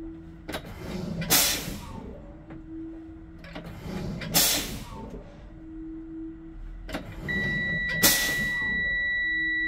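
A steady high-pitched low air pressure warning buzzer sounds near the end, triggered at 70 psi during a school bus dual air brake test, while loud bursts of air hiss out repeatedly in the background.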